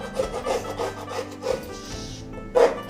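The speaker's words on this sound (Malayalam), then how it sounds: "ഇനി ഇത് നമ്മൾ പീസാക്കാൻ പോവാണ്." A knife cuts cleaned squid into small pieces on a board, producing soft repeated rubbing, scraping strokes at a close, moderate level, ending with a slightly louder chop.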